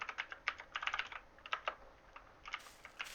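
Quick clusters of close computer keyboard keystrokes entering a command in a Team Fortress 2 session, rapid clicky taps with brief pauses, fairly quiet and with no talk.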